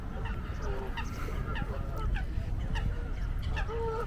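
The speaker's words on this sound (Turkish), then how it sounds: "kaz geliyor gel" Geese honking repeatedly in an urban park, short nasal calls scattered through a noisy outdoor background with a constant low rumble.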